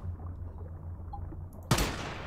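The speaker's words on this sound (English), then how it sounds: "Someone shot ya!" A single sharp gunshot cracks out in the video game Once Human, loud and abrupt after a stretch of quiet low rumble.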